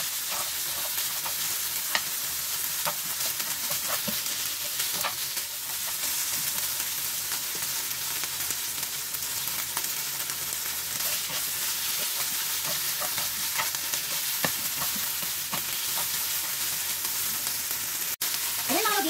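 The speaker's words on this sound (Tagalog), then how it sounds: "Brown lang natin yung ating karne" Pork belly browns in a hot pan for adobong talong, giving a steady, dense sizzle and fry crackle that runs throughout at close range with occasional stirring clinks and no talk.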